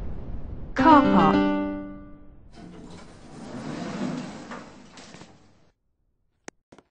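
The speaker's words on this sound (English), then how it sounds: "Please mind the doors. Doors closing." Schindler 5500 lift doors closing in a Roblox game: a synthetic voice announcement, then a soft sliding rumble of the doors for a few seconds, fading to silence before two sharp clicks.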